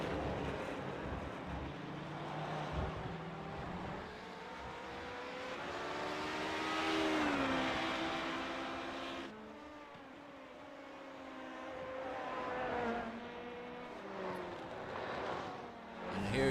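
LMP2 and GTE race cars lapping the Charlotte Roval in iRacing, engines droning and revving through the gears with rising and falling pitch, continuous and moderately loud, with no talk.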